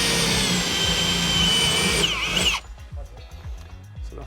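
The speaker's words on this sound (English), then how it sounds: "Need to drill through here" A power drill bores through a wooden fence post outdoors, running loud and steady at close range with a rising whine, then cutting out abruptly partway through and leaving quieter handling knocks.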